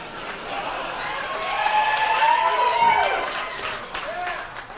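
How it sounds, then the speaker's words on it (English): A stand-up comedy audience claps, cheers and hollers, a swelling wash of crowd noise with scattered whoops and shouted voices rising to a peak in the middle before tapering off. "Sounds like the clones just got a bunch of megaphones and clapped and hollered into them."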